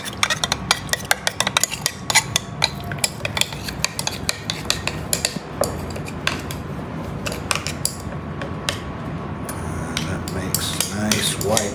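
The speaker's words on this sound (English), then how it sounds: "Stir, stir, stir." A utensil stirring a fake snow mixture in a bowl, giving repeated scraping, clinking strokes in an irregular rhythm, close and fairly loud throughout.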